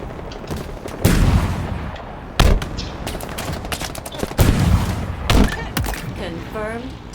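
Rapid bursts of turret gunfire in Halo Infinite on a custom Springfield town map, several loud clusters of shots with booming impacts spread across the moment, with game sounds layered throughout.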